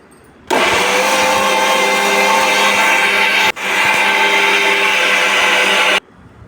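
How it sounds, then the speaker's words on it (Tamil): A mixer grinder whirs loudly and steadily, grinding roasted rice into a coarse semolina texture; it runs about five seconds with one momentary dip partway through. "வறுத்து எடுத்த அரிசியை ஒரு மிக்சி ஜாரில் சேர்த்துக்கணும் சேர்த்து ரவை பதத்துக்கு அரைச்சி எடுத்துக்கணும்"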